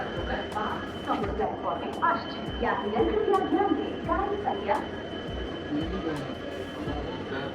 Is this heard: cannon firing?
no